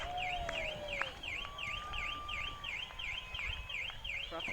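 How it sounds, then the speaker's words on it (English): Car alarms going off just after a fireworks finale, a repeating electronic warble cycling steadily for several seconds with a second alarm tone sliding underneath, heard at a distance over outdoor crowd murmur. "Car alarms and everything."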